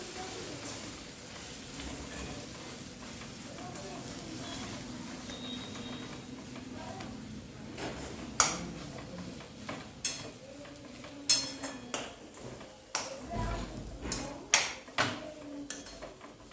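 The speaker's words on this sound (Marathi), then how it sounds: "आणि आता आपण टाकणार आहोत हा बटाटा बटाटा आपण व्यवस्थित मिक्स करून घ्यायचा आहे" Mashed potato for vada pav being mixed in a pan at home, with a quiet scraping bed that turns into sharp, irregular clanks and taps of a spoon against the pan in the second half.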